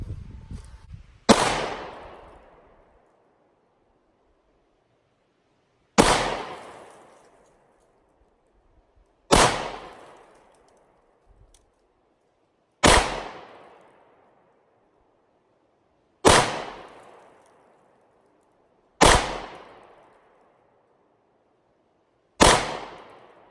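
Sharp, loud pistol shots from a Sig P365 fired at a target, seven single reports spaced a few seconds apart, each with a quick decaying ring, no talking between them.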